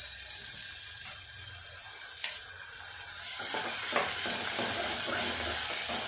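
Chopped onion and paste frying in a pan for Sindhi-style dal fry, a steady sizzle with the sound of stirring that grows louder partway through, with no talking.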